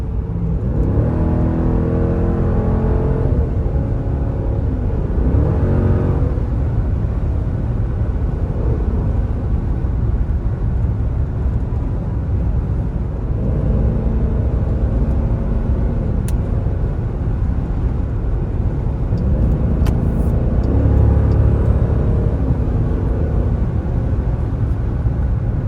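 An Audi S4 cruising on the road from inside the cabin, with a steady loud engine drone and road rumble, the gear-shift swells rising and falling in repeated waves throughout, no talking.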